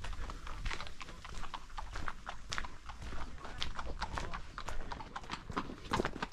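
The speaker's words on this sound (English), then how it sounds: "Oh, there's some horses coming." Horses walk along an outdoor route in autumn, their hooves clip-clopping in a steady, fairly close rhythm that carries through the whole stretch with no talking over it.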